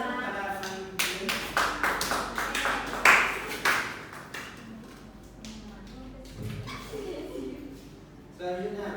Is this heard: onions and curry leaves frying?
no